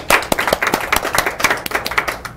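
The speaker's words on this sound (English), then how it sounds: "Let's give them a round of applause" A live audience claps for the Amani City Council at a local evening talk show taping in El Monte, a dense round of hand claps that fills the room without a break.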